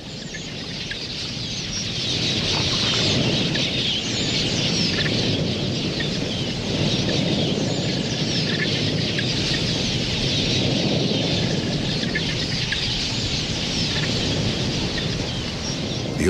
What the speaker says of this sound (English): Swirling flocks of queleas converge on the diminishing waterholes to quench their thirst.